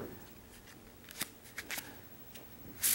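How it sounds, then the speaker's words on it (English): A deck of playing cards is shuffled a few times at a card table, giving quick riffling bursts and soft snaps over a quiet room, ending in a louder flutter. "Okay, we'll give it one more shuffle."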